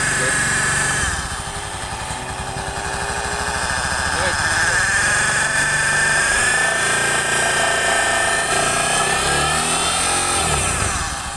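A motorcycle engine with a damaged crankshaft bearing runs steadily, a thin high whine riding over the rough mechanical churn and holding close and fairly loud throughout.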